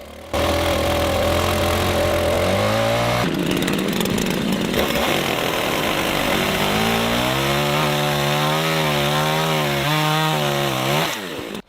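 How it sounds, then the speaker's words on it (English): A chainsaw trims the excess end off a log cabin roof beam, running loud and close for about eleven seconds, its engine pitch rising and falling as the chain bites into the wood, with no talk. "Cutting the excess part of the roof beam with a chainsaw."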